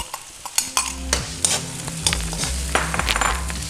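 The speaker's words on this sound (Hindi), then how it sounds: "प्याज फ्राई हो रहे हैं इनके अंदर हम अभी कुछ ही लम्हों में डालेंगे अपना बहुत ही यमी और फ्रेश टमाटर" Onions and tomatoes sizzle in a pan while a utensil stirs and scrapes through them in repeated strokes, close and clear, with no talking.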